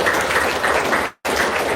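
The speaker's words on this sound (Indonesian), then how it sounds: "Bos, tepuk tangannya yang kompak dong, sekali lagi dong" A seminar audience applauds with dense, continuous clapping from many hands, loud and even, broken by a brief cut to silence before it resumes.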